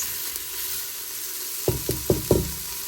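Meatballs for albondigas soup sauté in a pan with a steady, close sizzle, then four sharp knocks or scrapes of stirring come in quick succession near the end.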